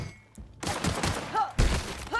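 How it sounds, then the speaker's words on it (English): Bursts of gunfire in The Outer Worlds video game, loud shots and impacts crackling in quick clusters across a couple of seconds, with faint voice-like sounds mixed in. "somebody else is shooting me"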